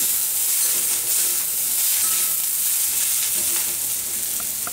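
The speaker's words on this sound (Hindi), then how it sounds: "इसमें सब्जियों को एक फॉर्क की मदद से जैसे टॉस कर लेंगे।" Vegetables and shredded cabbage hiss and sizzle steadily in a hot pan while being tossed with a fork during stir-frying, loud and continuous with faint scraping and no talk.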